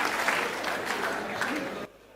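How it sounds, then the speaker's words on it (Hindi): A crowd in an assembly hall claps in a dense, steady burst of applause. The clapping stops abruptly just before the end and leaves near-quiet. "चलिए एक बार पूरा सदन ताली बजा के मुझे आशीर्वाद दे"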